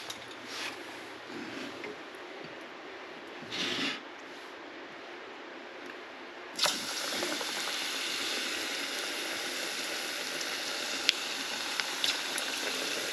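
Battered chicken dropped into medium-hot oil for homemade orange chicken, a steady dense sizzle that jumps louder partway through and then crackles on continuously, close up with no talking.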